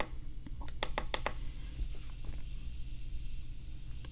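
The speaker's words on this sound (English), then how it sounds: "it's not working right with distilled water. You can hear it crackling." A mini USB-C mist fan with humidifier and LED lights, filled with distilled water, crackling in small dry irregular ticks and pops, close and faint over a low background hum.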